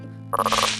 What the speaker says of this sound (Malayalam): ഈ പോക്കാൻ തവള എന്തിനാ ഇപ്പൊ കരയുന്നേ?